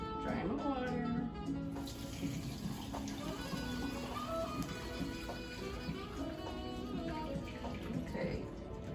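Pasta cooking water being drained into a sink in a home kitchen, a steady running-water wash heard up close throughout, with a voice talking over it.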